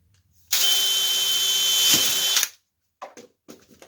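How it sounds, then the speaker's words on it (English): A power drill drilling a hole in a pipe whines steadily for about two seconds, close and loud, then stops, followed by a few brief clanks and handling sounds. "and use it for drilling a hole in the pipe."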